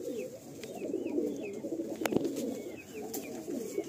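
Giribaj and Black Diamond pigeons coo steadily in a Kolkata loft, a soft layered murmur of rolling calls with a few sharper clicks and no voices.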